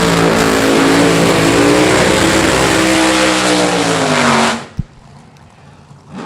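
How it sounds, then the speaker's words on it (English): A funny car drag racer does a long, smoky burnout at Mo-Kan Dragway, its engine blaring with rising harmonics for several seconds before cutting off sharply, followed by a single thump and near quiet. "Go ahead and rattle this tower with those long, smoky burnouts."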